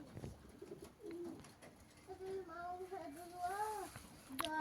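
Young pigeons on a roof give soft, low, rising-and-falling coos, quiet and somewhat distant over faint outdoor background noise.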